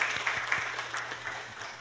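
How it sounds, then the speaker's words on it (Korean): A church congregation applauding during a Sunday morning worship service, steady mid-level clapping from many hands throughout, with a faint low hum underneath. "우리 하나님 영광의 박수 올려드리겠습니다."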